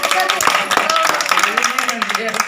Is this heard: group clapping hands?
yes